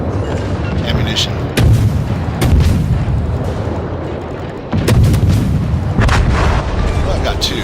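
Warship guns fire high explosive shells in the World of Warships PC game, heavy booming salvos cracking out at intervals over a constant rumbling battle background, loud and close, with a voice talking at times.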